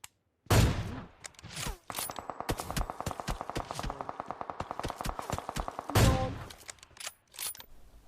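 Video game gunfire: a loud single shot, then a rapid automatic burst lasting several seconds, then another heavy blast followed by scattered shots.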